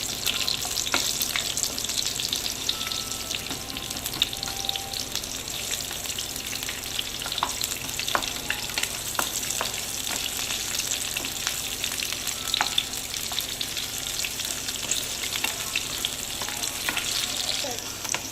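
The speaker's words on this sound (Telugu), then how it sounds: "ఇప్పుడైతే కొంచెం ఇది ఫ్రై అవుతుంది దీంట్లో కొంచెం మనం ఆనియన్ వేసుకుందాం ఆనియన్ అండ్ పచ్చిమిర్చి వేసుకుందాం" Onion and green chili frying in oil in a pan for mint rice, a steady loud sizzle with faint crackles and occasional stirring, no voice heard.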